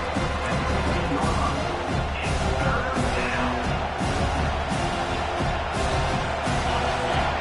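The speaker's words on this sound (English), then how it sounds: "Listen to this crowd just shaking the girders of this place trying to help their defense." A packed college football stadium crowd roars continuously, a dense, loud wall of cheering and noise held through without a break while the home defense is on the field.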